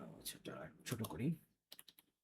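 Someone speaks briefly, then a short burst of light computer keyboard taps follows, close and quiet.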